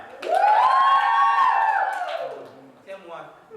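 A school crowd cheers for a hat in a contest. The loud group shout rises quickly, holds for about two seconds and then dies away, followed by a few quieter voices.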